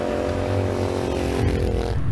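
A Moto Guzzi Griso four-valve V-twin powers a custom BT05 Cento cafe racer, idling with a deep, steady, throbbing rumble that stays loud and close, with no talk over it.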